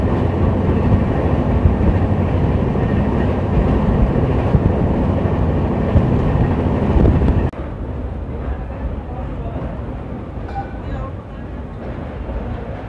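Antyodaya Superfast Express running through Andhra Pradesh near Tada on the Chennai to Vijayawada route, heard from aboard as a steady, loud rolling rumble that drops abruptly to a quieter, thinner roar midway.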